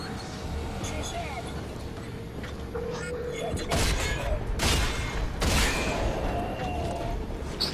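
Shotgun blasts ring out in the video game Rage, two or three sharp, loud bursts in the second half over a low game background, with someone talking faintly earlier.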